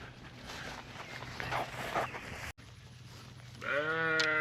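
Sheep on summer forage pasture of fescue, clover and millet: steady rustling and munching under a continuous bed of noise, then a loud, near bleat with clear harmonic stacks rising near the end.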